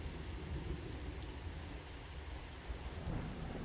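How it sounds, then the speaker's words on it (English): Heavy rain beats down in a thunderstorm, a steady loud downpour with low rolling thunder rumbling beneath it throughout. "Rain hammered the windows."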